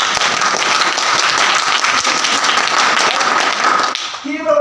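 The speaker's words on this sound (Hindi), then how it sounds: "एक बार आप भी इनके लिए जोरदार ताली बजाओ।" Loud, dense audience clapping at a financial-freedom seminar in Hindi, continuous and energetic before fading at the very end as a voice begins.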